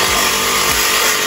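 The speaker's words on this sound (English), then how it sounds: "It's a Sawzall blade." A Sawzall reciprocating saw with a long 9-inch blade cuts through the exhaust pipe of an LML Duramax diesel truck, giving a loud, steady, rasping buzz with rapid strokes throughout a short burst.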